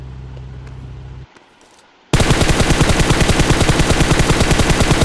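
Sustained automatic gunfire in a video game, loud and close, a rapid continuous rattle of shots that bursts in after a short near-silent pause.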